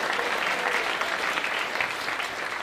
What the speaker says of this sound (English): One more round of applause for the seniors in the lab band first.